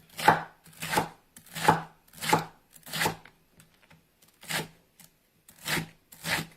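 An onion is chopped with a Rita knife on a cutting board in a Southern home kitchen, about nine crisp, evenly paced cuts, close and clear, with no talk.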